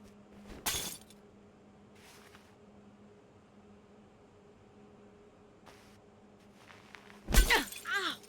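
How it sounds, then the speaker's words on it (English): Glass shattering in the video game Syberia 3, a sharp crash near the start and a louder, longer burst of breaking glass with scattering shards near the end, over a low ambient hum. "If I could only break the glass."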